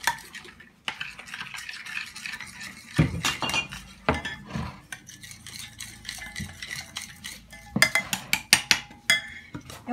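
A spoon mixes a chicken marinade of turmeric, dried parsley, dried chives, mustard and stock in a glass bowl, with repeated close clinks and scrapes that come in irregular bursts.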